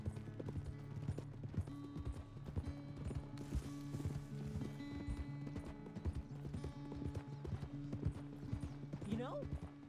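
Horse hooves clip-clop steadily in Red Dead Redemption 2, a rhythmic close trotting under a voice and background music.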